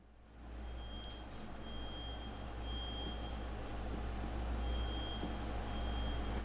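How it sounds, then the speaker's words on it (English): A smoke detector alarm goes off inside an apartment building, sending thin high beeps in short bursts from another room over a constant low hum. "That's somebody's setting off the smoke detector in my building."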